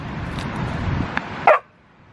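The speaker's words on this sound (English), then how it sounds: "What are you barking at, yourself?" A dog gives one sharp, close bark near a trail in Michigan's Upper Peninsula, following a rough rumbling background that cuts off into near silence.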